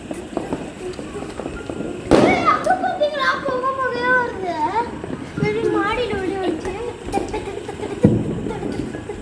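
Diwali firecrackers going off at a new house, with two sharp bangs several seconds apart among excited children's shouts and chatter nearby.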